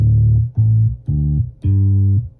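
Four low bass guitar open strings in drop D tuning plucked one after another, each sustained about half a second, deep and loud with a clean resonant tone.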